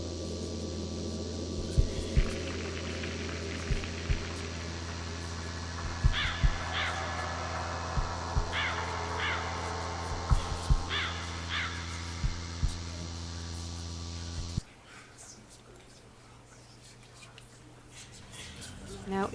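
Strange recorded sounds from the Tree of Crows painting in the video game The Lost Crown: repeated crow caws over a steady electrical hum with faint scratching, stopping abruptly before a quieter hiss.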